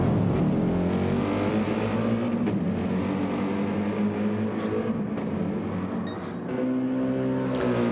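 Racing video game car engine on the Hazel Expressway approaching a chicane, a steady loud harmonic whine holding near pitch throughout, briefly dipping and rising again near the end, with no talking.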